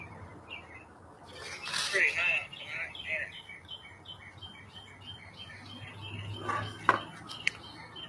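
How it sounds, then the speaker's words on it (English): Birds chirp and tweet outdoors at night, a little way off and not very loud. The calls come in scattered bursts over a low background hum, and a person talks at times between them. "The squirrels and the birds are all talking tonight"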